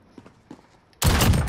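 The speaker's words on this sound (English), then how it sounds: "if you guys don't stop using a freaking shotgun" A loud, dense blast of shotgun fire from a video game bursts in abruptly after a second of quiet, faint sounds, sustained and near through the end.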